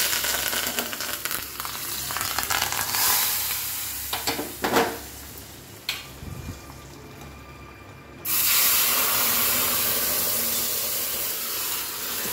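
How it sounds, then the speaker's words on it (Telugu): Curry leaves hit hot tempering oil after the stove is switched off. A steady background sizzle breaks into a few sharp crackles, then a loud, sustained burst of frying erupts for the final seconds. No voices. "ఇది కాగినాక కరివేపాకు వేద్దాం."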